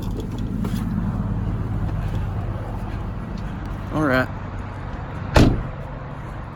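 A person gets out of a car in the Smoky Mountains, with a low engine or road rumble underneath, a brief creak or window-like whine, then a solid door thump near the end; a voice speaks briefly.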